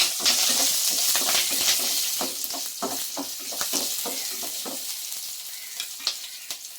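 Cashews and green chilies sizzle in hot oil up close, a bright continuous frying hiss punctuated by frequent scraping clicks of stirring that thin out toward the end.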